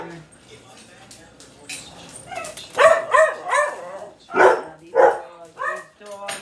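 Several loud, close dog barks and yelps in quick succession, some whiny and pitched, with a voice talking briefly at the start.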